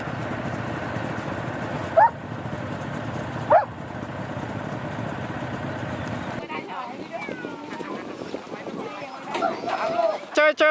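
Sled dogs bark outdoors at Lake Baikal, with a few sharp barks standing out over a steady rumble of motion and scattered yelps, while a person talks to them.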